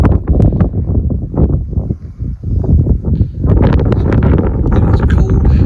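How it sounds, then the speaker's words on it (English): Cold November wind gusting across an open plains massacre site, buffeting loudly in uneven surges with a brief lull midway, close and rough like wind on a microphone. "It is cold, it is windy"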